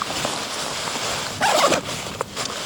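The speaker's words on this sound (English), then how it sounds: "The zipper falls, I'll put this back together here." A quick zipper pull on a hunting pack in the middle of a quiet scene, one short raspy zip followed by light handling rustle.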